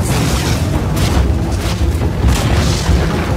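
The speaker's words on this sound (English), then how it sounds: "Dire's top tower has fallen." A defensive tower crumbles in Dota 2 with a loud, sustained booming rumble of explosions and collapsing debris that rolls on for a few seconds.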